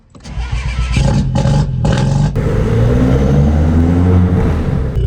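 A Mini Cooper S R56 with a Liberty Walk body kit, started for the first time in a long time, cranks with a few stuttering bursts and then catches into a loud, steady, close idle.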